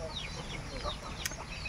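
Chickens cluck in a rural province yard in Old Damulog, Bukidnon, a few soft scattered calls over steady rain-like background noise.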